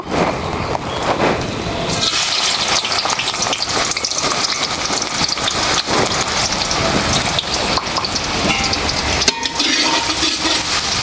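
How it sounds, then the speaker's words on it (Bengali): Onions fry to light brown for a mutton curry, a loud, continuous crackling sizzle like heavy rain that stays dense and even throughout, with brief shifts as the pan is stirred. "বাকি পেঁয়াজটা আমি এবারে হালকা বাদামি করে ভেজে নেব"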